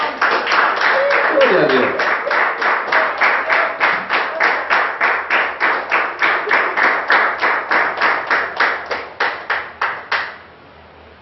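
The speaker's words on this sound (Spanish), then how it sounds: "Den un aplauso al Señor" Worshippers at a church sermon clap together in a steady rhythmic beat, loud even claps repeating about three times a second, with a voice speaking over the start before the clapping stops abruptly.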